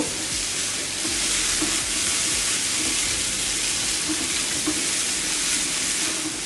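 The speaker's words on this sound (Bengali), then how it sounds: "মশলাটা আমি ভালো করে কষিয়ে নিব।" Ginger-garlic spice paste being fried and stirred in a pan for a hotel-style mixed vegetable dish, with a steady moderate sizzle and occasional soft stirring scrapes throughout, no one talking.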